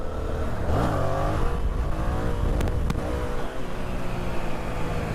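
Yamaha FZ07 motorcycle engine revved hard with the throttle, a loud, steady close-up drone that rises and falls in pitch in quick sweeps, with no voices.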